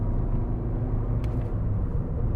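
Steady low engine rumble from a 2012 Ford Fiesta 1.4 TDCi diesel accelerating on the road, heard from inside the cabin as a constant drone with no talk.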